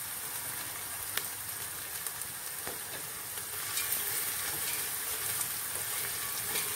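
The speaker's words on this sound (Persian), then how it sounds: "زمان میدیم تا هم پیاز داغمون آماده بشه و هم لوبیامون کمی سرخ بشه" Onions and green beans frying with ground meat in a pot for green-bean rice, a soft, even crackling sizzle with faint occasional stirring clicks, getting slightly louder partway through, with no speech.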